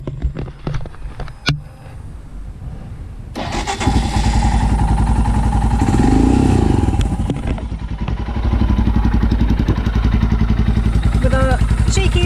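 A custom motorcycle with a throaty exhaust clatters, then starts and revs hard, settling into a loud, deep, pulsing roar with a surge in the middle, while voices talk over it near the start.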